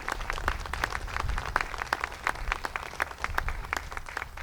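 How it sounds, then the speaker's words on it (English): A crowd claps for newly hired campus staff at a ribbon cutting ceremony, a steady round of applause with many overlapping hand claps, moderately loud and sustained, with no speech over it. "a round of applause to you guys"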